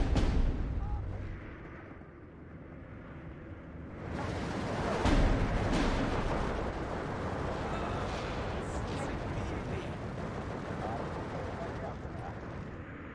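Artillery bombardment in the WW2 real-time strategy game Steel Division 2: heavy distant booms and rumbling blasts roll over one another in a dense continuous barrage, with someone speaking over them.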